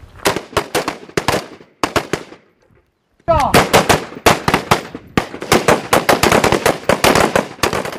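Rapid bursts of rifle and machine-gun fire ring out during Kurdistan Peshmerga shooting and marksmanship training on a range, loud close volleys separated by a brief pause, then sustained repeated shots.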